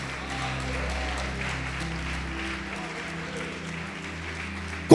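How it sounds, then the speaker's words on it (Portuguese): Church congregation applauding during a sermon as a steady, moderate wash of clapping heard from a distance within the hall, with low hum underneath. "Pode aplaudir"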